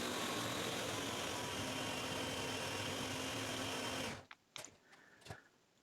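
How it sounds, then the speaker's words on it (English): A Ninja blender runs at its highest speed mixing protein ice cream, a dense, loud whirring roar that holds for about four seconds, then stops abruptly, followed by a few clattering knocks. "We are going to mix it at the highest blender speed until ready."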